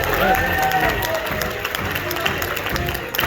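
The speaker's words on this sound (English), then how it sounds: "A little clapping throughout would not be a bad idea." An audience at a food event in the Coachella Valley claps steadily while a lively crowd murmurs, and an announcer's voice runs over the applause.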